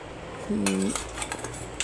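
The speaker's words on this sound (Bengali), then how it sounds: "কড়াই বসিয়ে তাতে বেশ খানিকটা তেল দিয়ে দিলাম।" A metal wok is set down on a stove with a sharp, ringing clank, followed by a few lighter metallic clinks as oil goes in.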